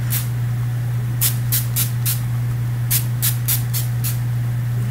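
Several short, sharp mist sprays from an e.l.f. Mist and Set makeup setting spray hiss in quick bursts, a single one first and then two clusters, over a steady low electrical hum.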